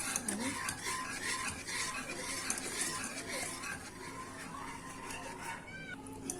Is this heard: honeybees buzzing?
no